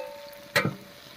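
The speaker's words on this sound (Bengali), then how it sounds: "এবার ঢাকাটা তুলে নেব" A pot lid lifts off a pan of onions and spices that have been slowly frying, giving one quick clatter and a brief burst of sizzle before the quiet background returns. No one speaks.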